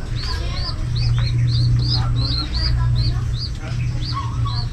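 Racing pigeons cooing and chirping in a loft as they are put in, repeated short calls over a steady low hum, fairly close.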